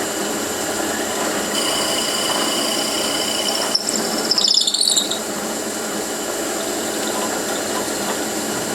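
A drill bit boring the mounting hole in a custom turning tool handle on a lathe, with a steady machine hum and one brief, shrill squeal near the middle before the drone settles again.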